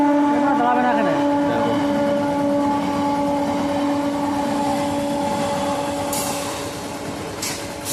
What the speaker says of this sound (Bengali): এই যে শিয়ালদা লোকাল চলে যাচ্ছে